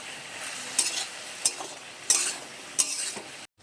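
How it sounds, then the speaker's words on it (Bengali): Ridge gourd fries in a pan as a spoon stirs it, giving four or five distinct scraping clinks over a soft continuous sizzle, close and moderately loud. "এবার নেড়ে চেড়ে কষে নেব"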